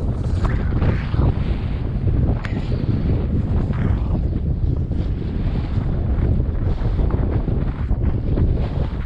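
Strong wind buffets the microphone on an off-road bicycle ride in stormy weather near an ancient long barrow, a loud continuous low roar with gusty surges and no pauses.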